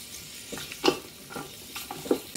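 Baby back ribs fry in oil in a pan over medium heat, giving a soft steady sizzle with a few louder clattering stirs close by; no talking.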